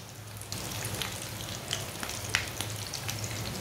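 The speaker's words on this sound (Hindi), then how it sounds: "इसे 2 मिनट के लिए ना एक साइड से पकने देना, दोनों साइडों से ब्राउन कर लेना।" Marmare kebabs fry in a pan over a low flame, giving a steady, quiet sizzle with small crackles and pops and no voices.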